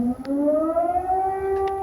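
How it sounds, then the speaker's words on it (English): A civil defense air raid siren wails steadily with a slowly rising pitch, loud and sustained with no talking over it. "We have the air siren."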